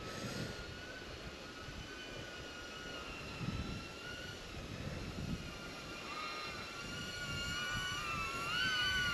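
A DJI Neo drone flies with a high, steady whine, its pitch wavering and rising as it manoeuvres, the tone fairly close and holding on without a break.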